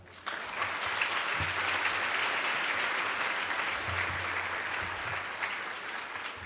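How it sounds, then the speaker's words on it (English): Sustained audience applause at a family strengthening summit, steady dense clapping that starts abruptly and tapers off slightly near the end. "one more round of applause"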